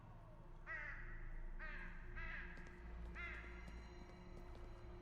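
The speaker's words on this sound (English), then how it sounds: "The crow" In the horror adventure game Saint Kotar, a crow gives four harsh caws at uneven intervals over a low ambient hum, with no talking.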